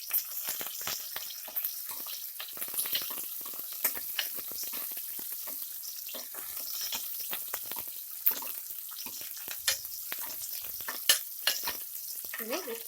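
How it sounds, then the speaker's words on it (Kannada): Onion and curry leaves fry in oil in a pressure cooker, giving a faint, continuous sizzle, with scattered scraping and stirring clicks throughout and no voices. "ಈರುಳ್ಳಿ ಸ್ವಲ್ಪ ಫ್ರೈ ಆಗಬೇಕು"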